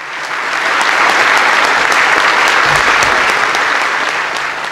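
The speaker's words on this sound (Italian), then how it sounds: "Neil Armstrong, nel momento in cui si è alzato per parlare, ha ricevuto nuovamente calorosi applausi dal pubblico presente" Warm, sustained applause from an audience greeting Neil Armstrong as he rises to speak, a dense roar of many hands clapping that swells in the first second and holds steady, loud and close, with no voices on top.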